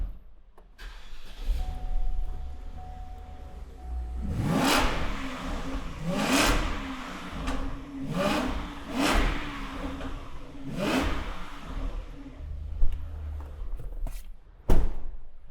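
A car engine starts and revs several times in quick bursts, loud and close, with a door thunk near the end and no talking.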